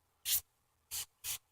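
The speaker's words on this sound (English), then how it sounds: "let me spray some of this on" Three short hissing bursts of a hair spray can, misted onto curly hair while fitting clip-in extensions for an updo, the first burst longest, the next two quick and closer together, close and fairly soft with no talking.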